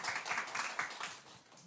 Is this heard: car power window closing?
no